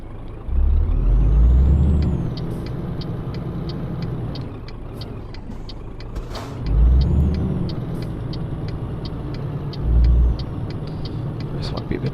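A truck driving in Euro Truck Simulator 2, hauling a big crate, gives a steady engine drone with low rumbling surges and hissing air-brake bursts, while a person talks over it.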